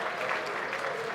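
An audience claps and cheers at the Technology Impact Awards show, a dense, steady wash of applause filling the hall without pause.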